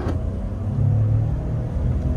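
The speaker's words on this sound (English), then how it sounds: "you can tell the difference when you're accelerating in sport versus any other mode" A 2022 Ford F-150 pickup accelerating in sport mode, a low steady engine rumble and road drone heard from inside the cabin, swelling slightly about a third of the way in with no talk over it.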